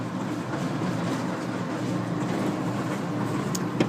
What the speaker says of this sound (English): exhaust for the restaurant. It makes way too much fucking noise.